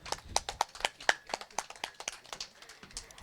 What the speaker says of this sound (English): Can you please have a round of applause once again for them?